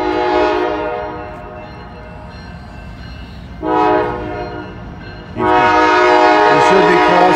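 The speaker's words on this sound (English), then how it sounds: "Got a southbound Norfolk Southern, looks like an intermodal." Southbound Norfolk Southern intermodal freight train passing, sounding loud, sustained horn blasts that fade, return briefly, then blare continuously up close over rolling rail noise.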